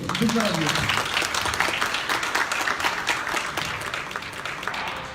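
Hall audience applauding at a charity foundation evening after a district governor's speech, steady full clapping throughout with a brief voice at the start, gradually fading toward the end.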